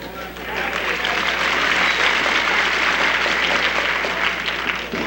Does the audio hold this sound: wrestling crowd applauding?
yes